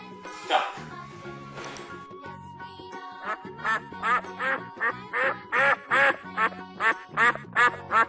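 A duck quacks repeatedly in a steady run of loud, close quacks over light background music, with an earlier single quack near the start.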